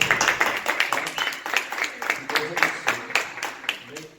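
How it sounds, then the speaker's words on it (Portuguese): A church congregation claps together during a service, a steady run of sharp, fairly even handclaps that continues throughout with a faint murmur of voices underneath. "eu gostaria que você recebesse a vida dele com uma salva de palmas ao Senhor."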